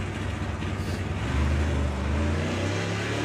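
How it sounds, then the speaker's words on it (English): A loud drag racing car at Santa Pod Raceway during a Dragstalgia event, heard as a steady heavy engine roar that swells louder midway and holds strong without talk. "Right after this, we have one of those big old loud cars."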